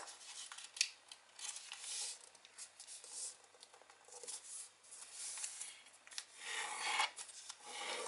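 Paper is being folded and creased for an action origami button model, with soft rubbing, scraping and crinkling sounds heard close and quietly, with no talking.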